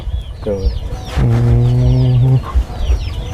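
A chicken clucks nearby, a short run of clucks and then a longer drawn-out call, with outdoor background noise and faint chirps around it.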